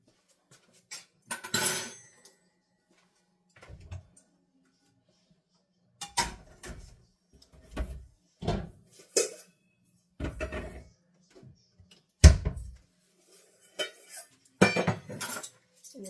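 Bowls and spoons clink and clatter on a kitchen counter in short, scattered bursts with quiet gaps between, close by and without talk.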